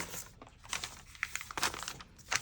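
Craft paper is torn by hand in a series of close, crisp rips and crinkles, each burst brief and irregular, with no talking.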